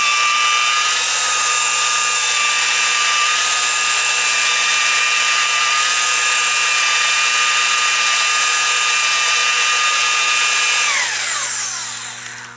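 A TSM-4500 pipe cutting and squaring machine runs with a steady, loud whine for about eleven seconds, then spins down as the motor winds off.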